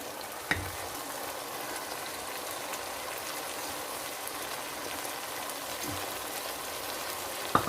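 Masala with spices fries steadily in a pan, a close, continuous crackling sizzle with a couple of faint stirring knocks.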